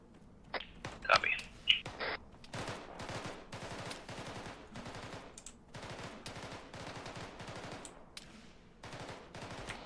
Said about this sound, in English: Fire from the west. Sounds like a marksman.